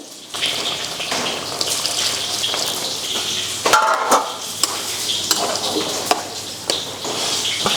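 Water poured into a cooking pan of paneer curry, a steady wash of pouring and sizzling with a few sharp clinks of utensils against the pan, close and continuous throughout.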